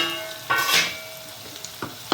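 Chopped onions sizzle and fry in a hot pan for a green leaf curry, with a couple of stirring scrapes breaking through a steady close crackle; no talking.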